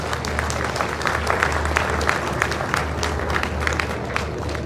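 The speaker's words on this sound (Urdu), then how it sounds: "ایک مرتبہ پھر آپ کی بھرپور تالیاں ہونی چاہیے" Audience applause at a livestock expo seminar in Hyderabad: dense, steady clapping from a seated crowd that runs evenly throughout, fairly loud and close, with no voices over it.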